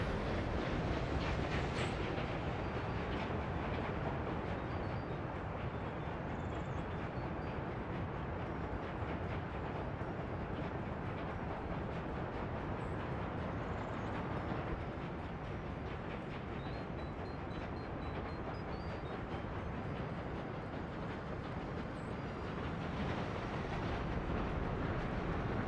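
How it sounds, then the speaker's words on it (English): A train rolls into a depot in the Workers & Resources game, a continuous dense rumble that holds steady throughout with no talk over it. "train is coming to the depot"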